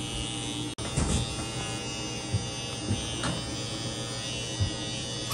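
Electric trimmer shaving the pile of a tufted rug smooth during a rug tufting class, a steady close buzzing drone running throughout with a few brief bumps as it passes over the surface.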